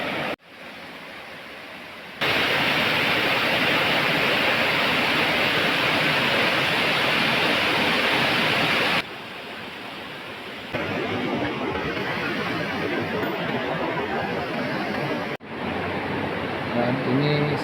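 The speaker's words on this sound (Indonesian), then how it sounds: "Dan ini sisi dari sungai utama kawan-kawan yang ada di Kampung Sindang Laka ini" The main river at Kampung Sindang Laka, a village stream, flows with a steady broadband rush of water, loud and close, its level shifting slightly as the position changes, with no talk over it.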